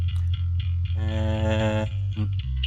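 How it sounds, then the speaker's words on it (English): Bass guitar overdriven through a Darkglass B3K pedal, a growling low note with a gritty, distorted upper buzz swelling in the middle, close and loud with no voice. "Let's overdrive it a little with the B3K."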